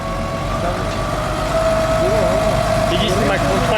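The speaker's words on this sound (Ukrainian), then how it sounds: "запускает мотор" A Ferrari 812 Superfast engine idles steadily with a constant low rumble, close by, while voices talk in the background.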